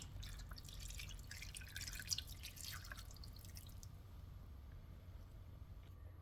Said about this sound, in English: we've got chicken stock going in over the top